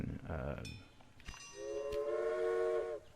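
A freight train in a prairie railroad-building video game runs along the track, a rumbling start followed by a long sustained whistle blast, all fairly loud and alone.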